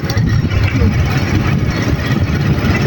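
A steady, rumbling motorcycle engine runs continuously at close range, ridden slowly over a potholed road, its low drone loud and unbroken throughout.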